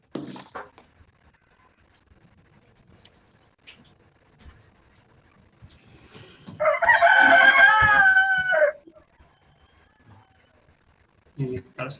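A rooster crows once near a home, a loud drawn-out call in the middle of the stretch, with people talking briefly before and after it.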